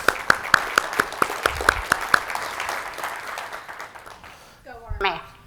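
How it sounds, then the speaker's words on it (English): An audience at a corporate defense technology event claps in sharp, distinct beats that soften into scattered applause, and a voice begins speaking near the end. "And big round of applause."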